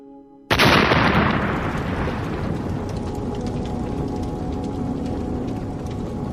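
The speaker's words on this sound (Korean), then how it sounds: "폭발음은 먹먹하고 둔탁했다." A muffled, dull explosion sound effect in a Korean audio drama hits suddenly after a brief quiet moment, then rolls into a long, heavy rumble that slowly fades but lingers loudly to the end.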